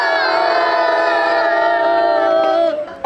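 A crowd roars and whoops together in one loud, sustained shout that holds for a few seconds and then breaks off abruptly near the end.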